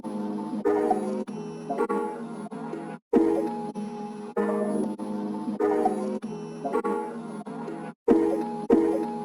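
A chopped, reversed sample melody pitched up seven semitones plays in bright, sustained phrases broken by abrupt cuts into short gaps, repeating in uneven segments of a flipped experimental beat.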